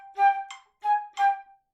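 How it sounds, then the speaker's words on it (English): A flute plays a short staccato measure of four crisp detached notes alongside a metronome at 90, each note clipped short with clear gaps between. "I'm going to put my metronome on 90, and I'm going to play the first measure for you."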